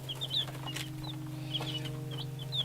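Newly arrived Americana and Bantam baby chicks peep in short, high, repeated bursts over a steady low electrical hum, close by and fairly loud.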